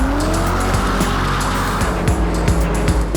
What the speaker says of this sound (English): This is the new Ford GT. It's the first proper supercar ever made in America.